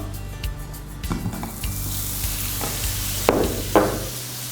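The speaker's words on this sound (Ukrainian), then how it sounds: "Розігріваємо сковороду, додаємо вершкове масло," Butter sizzling steadily in a hot pan, with a few clinks and scrapes of a utensil and two sharper hissing bursts.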